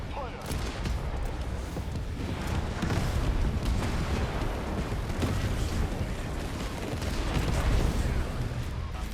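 Battle in the Tempest Rising strategy game, with dense, continuous gunfire and rumbling explosions filling the whole stretch at moderate loudness.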